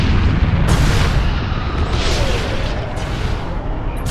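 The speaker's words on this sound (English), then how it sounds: "Enemy transport ship destroyed!" An enemy transport ship blows apart in the space battle game Battlefleet Gothic Armada, with loud, rumbling booms and bursts rolling over one another without a break.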